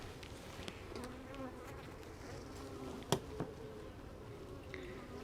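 A dense, continuous hum of many bees, steady and close, broken once by a sharp knock or two.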